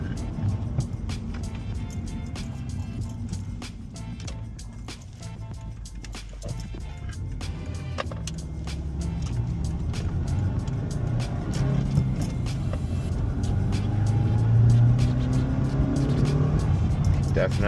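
A 2008 Subaru Legacy 2.5 fitted with a Cosmo Racing intake, heard from inside the cabin: a steady low engine drone with some rising revs under road noise, while people talk.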